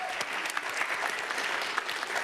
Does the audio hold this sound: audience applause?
yes